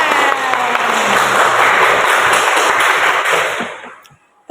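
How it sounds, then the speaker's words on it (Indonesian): A class of seventh-grade students claps hands together in a classroom, a loud burst of dense, crackling applause that holds steady for several seconds, then tapers off quickly. "Tepuk tangan."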